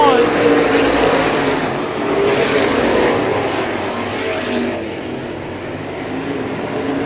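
Open wheel modified race cars roar through turns three and four at Showtime Speedway, a dense, loud engine drone that swells and fades as the pack passes, with an announcer talking over it.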